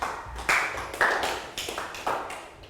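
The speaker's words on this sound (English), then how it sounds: "Round of applause for Pang Pong." A primary school class claps for a classmate in a lesson, a handful of sharp, evenly spaced group claps close by, each ringing briefly and then fading.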